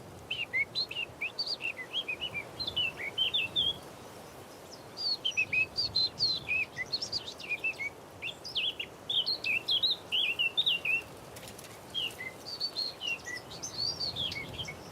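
A Eurasian blackcap sings from behind trees near the Bay of Somme, repeated bright warbling phrases coming in bursts with short pauses, fairly close but unseen, over a soft outdoor hush.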